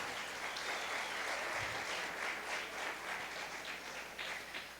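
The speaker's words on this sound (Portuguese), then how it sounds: "Você pode aplaudir o Senhor por isso?" A church congregation applauds the Lord in sustained, dense clapping that holds level and eases slightly toward the end, with no talking over it.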